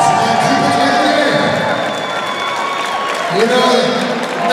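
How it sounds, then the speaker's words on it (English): Boxing event crowd applauding fighter Marcus Maulding at a Knockout Promotions show, loud sustained clapping and cheering with whoops, while an announcer's voice carries over the top. "Let's give him a round of"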